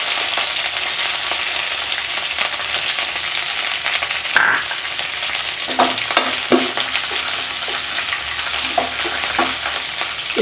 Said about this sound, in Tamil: எண்ணெயிலையும் வதக்கலாம். இஞ்சி பூண்டு போட்டுக்கலாம்.